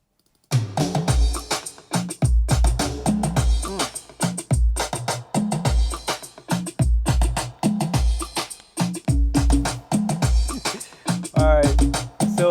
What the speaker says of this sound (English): So now we have the drums so far, and the drums all sound like this.